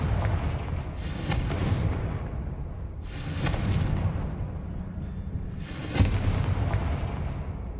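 Confringo explosive spell blasts in Hogwarts Legacy: three loud, separate booming bursts a couple of seconds apart, each with a crackling tail over a steady low rumble.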